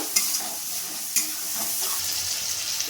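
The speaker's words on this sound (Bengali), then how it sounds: "মশলাটা এবার আমি ভালোভাবে একটু কষিয়ে নেব।" Ginger, garlic, green chili and onion paste sautéing in a pan, a steady close sizzle with occasional stirring scrapes and clicks, no voices.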